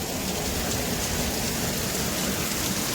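Heavy rain pours steadily onto a tiled roof at night, a dense, unbroken hiss of drops drumming close by with no pauses.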